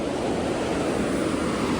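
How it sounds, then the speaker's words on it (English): A flooded creek by a pond and dam rushes loudly after heavy rain, a constant, close, broadband roar of flowing water with wind noise on the microphone and no voices. "the creek is rolling again"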